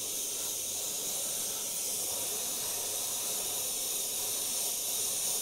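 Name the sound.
airbrush spraying paint on a skull artwork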